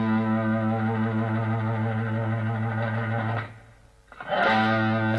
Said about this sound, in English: I'm just playing this with a bit of distortion just so you can hear.